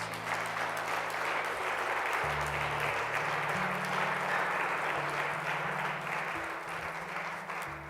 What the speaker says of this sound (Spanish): Vamos a dar un aplauso al Señor por la vida de todas estas personas